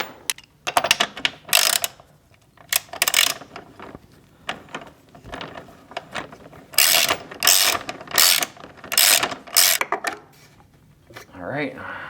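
A ratchet wrench tightens a frame slider bolt on a 2019 Kawasaki ZX6R, giving rapid close clicking in repeated bursts with short pauses between strokes.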